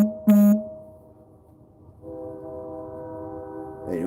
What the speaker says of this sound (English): And we got the train in the background.